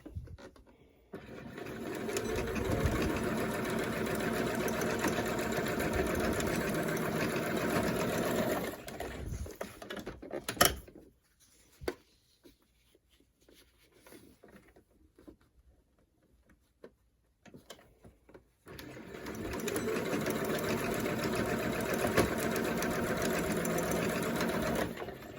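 A sewing machine top-stitching along a lengthened zipper runs in a loud, steady mechanical whir, stops for several seconds of quiet handling clicks, then resumes stitching at the same close, even pace.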